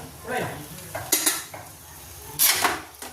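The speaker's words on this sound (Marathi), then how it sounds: "आता तेल टाकलं पोळी चिटकू नये म्हणून पोळी भाजून घेऊ" A puran poli flatbread roasts in oil on a pan, with short bursts of sizzling and clinking scrapes of a utensil against the pan, separated by quieter pauses.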